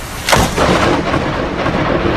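A loud rumble of thunder cracks and rolls on during a US East Coast storm, with a dense wash of rain or wind noise continuing throughout.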